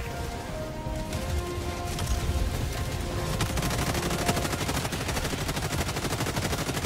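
Gunfire in Helldivers 2 rattles in a dense, sustained stream of rapid shots, fairly loud and unbroken for several seconds as a battle with bots rages.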